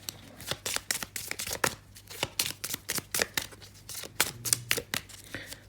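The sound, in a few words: shuffling tarot cards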